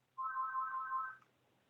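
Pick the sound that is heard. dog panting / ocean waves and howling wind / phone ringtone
phone ringtone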